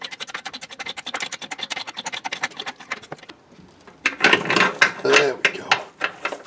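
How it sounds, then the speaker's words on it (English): Rapid ratchet clicks tighten subframe bolts on a Toyota MR2, a steady run of close mechanical clicking followed by a louder, denser burst of ratcheting and metal scraping. "I finally have all 4 subframe bolts in."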